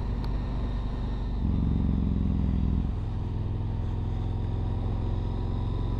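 A Yamaha MT-01 motorcycle with its baffles fitted idles steadily up close, a deep, even engine rumble that swells briefly louder for about a second and a half mid-clip before settling back to a low idle.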